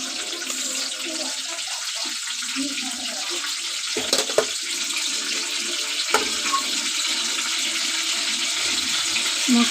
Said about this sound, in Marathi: तेल तापले की कढीपत्ता टाकून घेऊया।